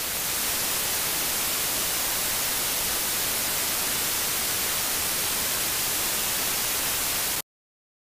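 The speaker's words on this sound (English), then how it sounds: "White noise is a random collection of frequencies all at approximately the same" Steady, flat hiss of synthetic white noise, loud and unchanging for about seven seconds before cutting off abruptly into silence.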